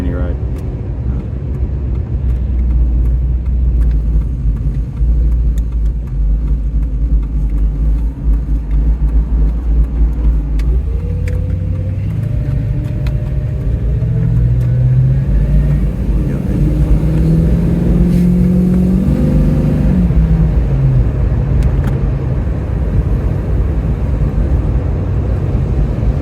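A Holden VX car with a lock-up torque converter, out on a road drive, gives a steady low engine drone with rising and shifting tones midway, as people talk inside the cabin.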